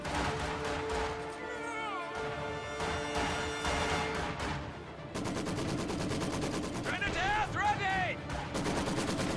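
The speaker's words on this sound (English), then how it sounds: "Infantry support gun will start firing" Repeated gunfire and explosive shots from an infantry support gun in the strategy game Company of Heroes, heard amid continuous battle noise, music-like tones and layered effects.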